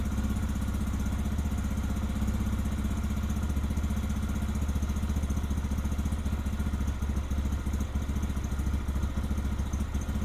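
A Lifan motorcycle engine idles steadily at around 1650 rpm, a continuous close mechanical drone with a fast, even rhythmic clatter throughout and no talking.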